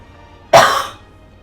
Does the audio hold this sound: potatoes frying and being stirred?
no